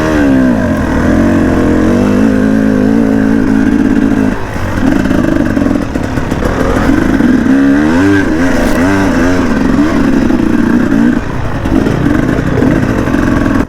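KTM 300 enduro motorcycle ridden up and down a forest trail, its two-stroke engine loud and close, revving and bogging in rising and falling surges with clattering from the rough ground.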